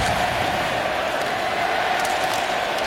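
TD Garden hockey crowd in Boston taunting Dallas Stars forward Tyler Seguin, a steady, dense arena roar of massed voices filling the building with no break across the few seconds.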